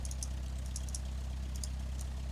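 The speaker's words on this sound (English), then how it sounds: "let's shut down the engine" Piper Super Cub engine in the Prepar3D flight simulator, a steady low droning idle with a rough, pulsing rumble and faint high ticks, continuous and close with no talk; no clear winding down is heard.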